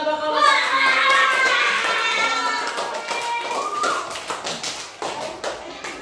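Children in a primary school classroom clap for a winning group, a dense burst of hand claps that is loudest at the start and then thins into scattered claps and taps. Young voices sound faintly beneath it.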